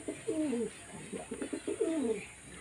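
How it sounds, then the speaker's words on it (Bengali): Domestic pigeons in a loft give several close, soft, rolling coos in quick succession, with no talking. "এই পায়রা যা দেখছেন"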